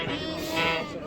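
A sheep at a busy livestock bazaar giving one drawn-out, wavering bleat, close and loud, with crowd noise around it.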